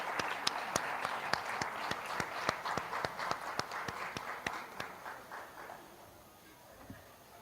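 At the inaugural session of a corporate summit, an audience claps in a steady, evenly spaced rhythm with crisp individual claps over a softer wash of hands, fading out over the last couple of seconds.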